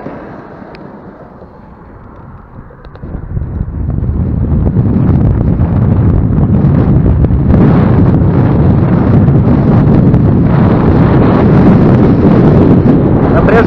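A 72-volt electric scooter running on lead-acid batteries accelerates to top speed, with loud, steady wind buffeting and rushing noise building after a quieter start and holding to the end.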